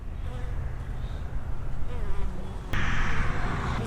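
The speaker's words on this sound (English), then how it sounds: "We see plenty of bees going in and out." Honeybees buzz steadily around a nucleus hive, a dense insect hum as bees fly in and out, with a brief rustle near the end.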